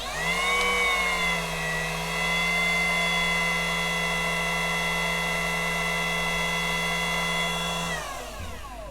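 Modern M80 cordless wood trimmer running at its lowest speed setting, about 10,000 RPM: a loud, steady, close motor whine that holds for about eight seconds, then winds down as the motor is switched off.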